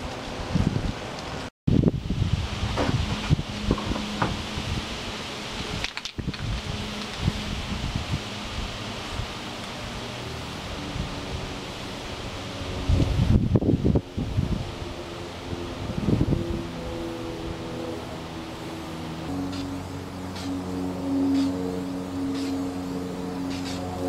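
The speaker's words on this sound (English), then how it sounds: "that wind is blowing. It's unbelievable." Strong outdoor wind buffets the microphone in heavy rumbling gusts with rustling, rising and falling over about twenty seconds, interrupted by a couple of abrupt cuts, with some faint mechanical tones later.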